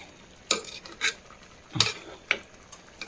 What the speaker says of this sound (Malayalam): ഇളക്കി കൊടുക്കാം പതുക്കനെ അധികം പൊടിഞ്ഞു പോകാണ്ട്